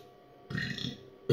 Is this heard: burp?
yes